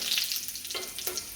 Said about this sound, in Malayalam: ഇതിലേക്ക് വെളിച്ചെണ്ണ ചൂടായതിനു ശേഷം കടുകും, മുളക്, കറിവേപ്പില ഇത് 3ഉം ഇട്ട്